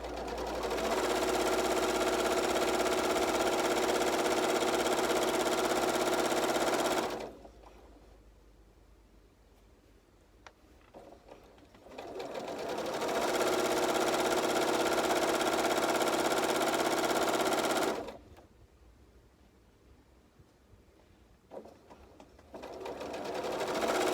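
A sewing machine runs a straight stitch at a 2.2 length on automatic tension, sewing white fabric in two long, steady bursts of about seven seconds each, with quiet pauses in between.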